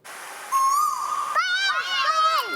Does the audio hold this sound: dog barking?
no